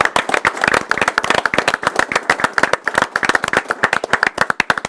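Audience clapping at a school board meeting: a small group of individual hands striking in quick, sharp, uneven claps, close and distinct rather than a blended roar, continuing for several seconds.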